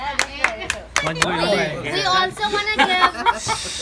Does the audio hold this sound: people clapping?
yes